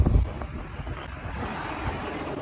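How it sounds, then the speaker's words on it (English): Strong wind buffets the microphone on a farm in a steady low roar, with gusting rumbles and a hiss of open air throughout. "Don't know if you can hear me, it's pretty windy."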